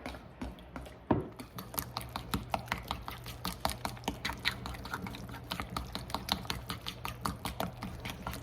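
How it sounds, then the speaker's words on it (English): A spoon stirs sourdough discard with melted butter in a bowl, giving a steady rhythmic series of close, soft wet clicks and squelches with no talk. "I'm just gonna give it a good stir and incorporate it all together."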